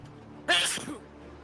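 A single sharp, breathy sneeze bursts out close to the microphone, brief and loud, followed by a short voiced tail as quiet conversation resumes around it.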